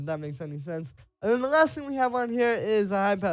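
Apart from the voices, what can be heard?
No distinct noise like a dog, phone or traffic.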